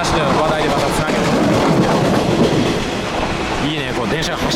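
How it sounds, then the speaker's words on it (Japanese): Shonan Liner train running on the tracks, a steady close rumble of wheels and carriage noise with faint rhythmic clatter throughout, while someone talks over it. "こう電車が走ってるような感じがしますよ"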